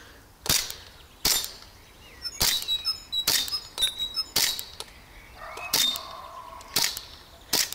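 Elite Force Mark 4 gas airsoft pistol firing about eight sharp, close cracks at irregular intervals of roughly a second, with faint bird chirps and quiet ambient noise between shots.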